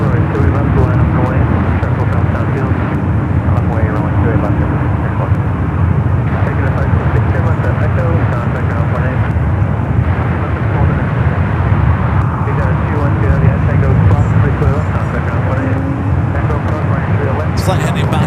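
A Boeing 787-9 Dreamliner jet airliner at San Francisco airport roars loudly and continuously, a broad steady rumble that persists throughout while people talk over it.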